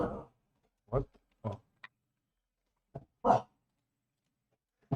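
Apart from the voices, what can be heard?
dog barking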